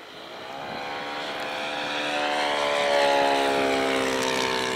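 A radio-controlled T40 model airplane comes in to land at a model aircraft meeting, its propeller engine a steady, fairly loud drone that swells and shifts pitch as it passes close by.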